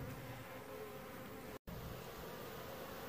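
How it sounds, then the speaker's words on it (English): A swarm of bees flies around a hive box after being shaken in from a water meter, producing a continuous faint, dense buzzing drone with a brief cut partway through. "there are a lot of bees airborne still"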